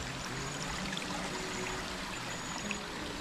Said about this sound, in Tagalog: Ayan ang ganda ng tubig sa taas, may bukal kasi doon galing sa bundok.